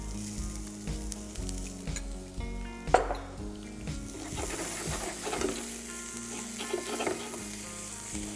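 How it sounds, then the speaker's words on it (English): Steady sizzle of onion frying in a pan while it is stirred, with scraping strokes and a sharp clink of the utensil against the pan, close and continuous with no talk. "we have to just stir it."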